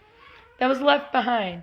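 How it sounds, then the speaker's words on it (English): A pet cat meows twice in a home, two drawn-out, fairly loud meows close to the microphone after a faint voice at the start. "That's my cat in the background,"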